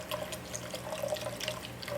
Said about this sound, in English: Now let's add our beef broth.